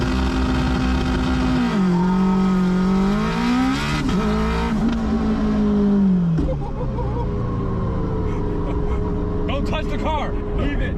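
A loud AWD Honda engine revs and holds at a high pitch on a two-step anti-lag launch near 8000 RPM, then drops and pops as it launches, with crackling bursts toward the end.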